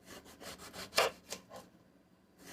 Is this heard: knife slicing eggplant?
yes